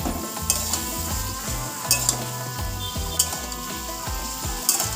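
Chhana mixed into pointed gourd in a hot pan, with continuous sizzling frying under it and a few bright clinks of the spoon against the pan.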